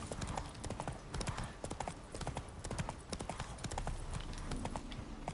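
Horse hooves galloping in The Witcher 3 on PS5, a fast steady clip-clop that runs throughout, loud and close over game ambience.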